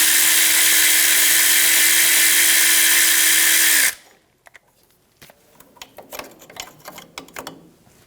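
A power tool whirs loudly and steadily for about four seconds, loosening a 10mm bolt on the ABS bracket of a 2005-2010 Toyota Tacoma brake line bracket. After it stops, a stretch of quieter metallic clicks and handling clatter follows.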